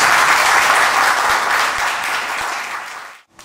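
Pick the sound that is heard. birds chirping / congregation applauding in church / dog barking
congregation applauding in church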